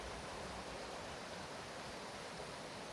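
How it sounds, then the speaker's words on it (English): A creek flows beside an old house in Old Shasta, making a steady, dense rushing wash that stays constant and fairly quiet throughout, with no voices. "That's the creek."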